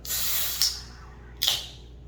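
A can of Nitro Pepsi Vanilla cracks open with two short, close hissing bursts of released gas, separated by a fizzing, airy wash from the pour.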